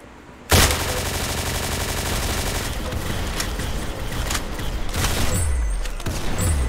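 Rapid, continuous gunfire fills the Arsenal video game after a sudden loud onset: dense overlapping shots and heavy blasts like shotgun fire, with no break.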